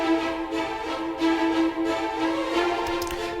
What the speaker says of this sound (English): Now with our violins and viola shorts.